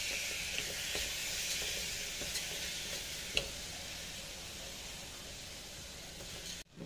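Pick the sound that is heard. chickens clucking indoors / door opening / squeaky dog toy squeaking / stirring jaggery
stirring jaggery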